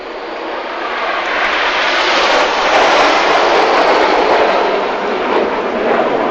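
Red Arrows jets fly in close formation through a right-hand turn at the Eastbourne airshow, a loud broad roar that swells and holds steady for several seconds, with no voices.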